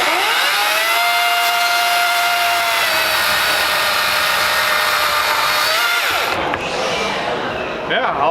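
Craftsman brushless 60-volt battery-powered cutting tool running at a steady high whine for about six seconds, then spinning down and starting again, loud and close, with people talking at a demo event.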